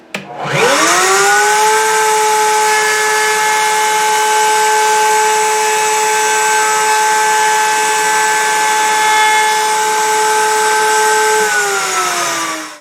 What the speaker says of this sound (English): I'm just going to go back to the router table, which is still set up with the 1/8 roundover bit